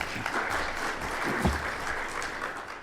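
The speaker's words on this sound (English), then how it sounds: "They're applauding your excellent introduction." Audience clapping after a speaker's introduction at a healthcare analytics panel session, a moderate, even patter of many hands in a room that rises slightly and then tapers off.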